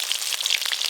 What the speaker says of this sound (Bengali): এবার আমি কাঁকড়াগুলো ভেজে নেবো।